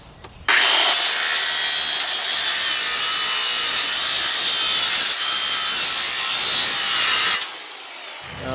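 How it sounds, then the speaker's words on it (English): A power saw with a metal blade scoring a concrete sidewalk, a loud, harsh, continuous grinding hiss lasting about seven seconds, starting and stopping abruptly, with no talking. "I just use a metal blade like this."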